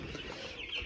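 A 15-day-old broiler chick on a rural Nepalese poultry farm gives a brief, soft cluck, close by and over in under a second.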